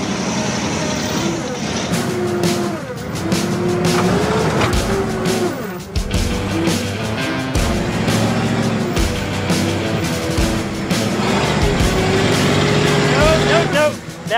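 A modified retired Humvee drives off-road, its engine roaring loudly and revving throughout with tyre and gravel noise, while people talk over it.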